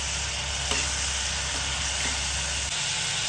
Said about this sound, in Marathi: 3 चमचे हिरवं वाटण, आलं, लसूण, मिरच्या, कोथिंबीरचं केलेलं आहे ते असं परतून घ्यायचं आहे।